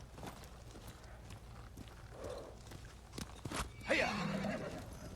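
A horse neighs loudly in the Ghost of Tsushima video game, its whinny rising near the end over steady clip-clopping hooves and a faint low background.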